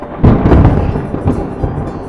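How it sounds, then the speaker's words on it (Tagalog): Loud thunder rumbles close and heavy, a deep roar that swells early and then rolls on in uneven waves without fading out. "Kulog."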